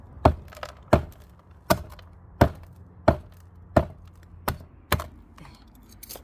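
A flowerpot holding a freshly planted specimen, set in a stone pot, is tapped to settle the soil, making nine evenly spaced dull knocks about two-thirds of a second apart, close and clear.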